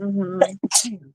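A single sharp sneeze bursts out close to the microphone in a casual indoor chat, after a short murmured sound from someone.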